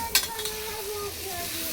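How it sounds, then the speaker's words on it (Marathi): Food is stirred in a sizzling pan, a brief scrape of a utensil over steady frying crackle, close and moderately loud. "असं थोडं मिक्स करून घ्यायचं."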